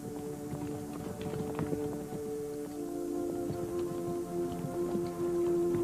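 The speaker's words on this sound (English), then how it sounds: "The horse." Horse hooves clip-clopping in a biblical epic film scene, a loose rhythm of moderate hoof knocks under a steady low musical drone, with no talking over them.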